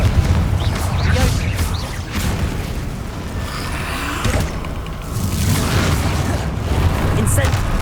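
Blasting-spell explosions in Hogwarts Legacy, repeated booming bursts amid combat clatter, loud and close, with a voice speaking over them.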